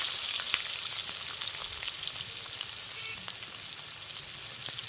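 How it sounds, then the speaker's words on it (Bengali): Chopped onions sizzle steadily in hot oil, a constant crackling hiss with small pops and occasional stirring scrapes, no talking. "পেঁয়াজ কুচিটা তেলের উপর দিয়ে ভালো করে নাড়াচাড়া করে একটু ভালো করে ভেজে নেব।"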